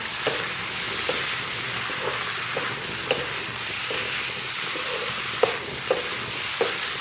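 Chicken with garlic, ginger and chili powder is stirred in a frying pan, giving a constant loud sizzle with periodic soft scraping and clinking knocks from the spoon.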